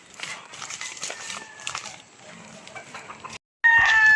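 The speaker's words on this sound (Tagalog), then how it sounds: "may mga manok pala dito. Farm pala to." Chickens cluck and squawk nearby on a small farm amid rustling, followed by a brief pause and a loud, sustained rooster-like call at the end.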